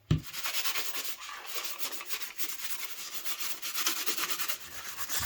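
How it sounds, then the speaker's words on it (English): Steady rubbing of neatsfoot oil compound into a handmade leather sheath for an Opinel knife, a continuous close, soft, textured friction sound with a rhythmic back-and-forth pulse and no talking. "Rub it in"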